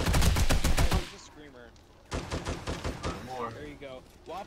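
Shotgun fire in a video game against a horde: a rapid string of sharp loud blasts at the start, then a pause with faint clanking and scattered sounds before another quicker series of shots.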